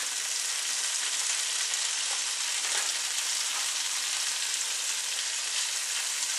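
Pork balls fry in a hot pan in a steady, loud, close sizzle that hisses evenly throughout with no break and no talking.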